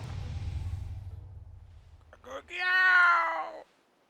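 A Pokemon cry from Pokemon Scarlet, a strained, warbling cat-like yowl lasting about a second, heard alone after a low rumbling background fades.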